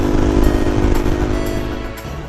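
A DRZ motorcycle ridden on the road, its engine a close, loud and steady drone with faint wind rush, easing slightly toward the end of the brief stretch.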